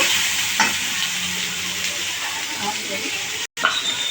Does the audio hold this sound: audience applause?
no